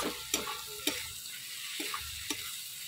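Masala fries in oil with a low, steady sizzle, broken by a few sharp clicks of a spoon scraping and stirring the pan at close range.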